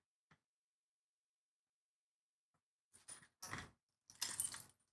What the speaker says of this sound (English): my keys are close by, so I can just cut into the